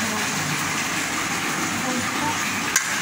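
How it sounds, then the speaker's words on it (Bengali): Potatoes frying in a pan in a home kitchen, a steady close hiss of sizzling oil that runs the whole time, with faint background noise and one small clink near the end. "এটা আলু ভাজা হচ্ছে"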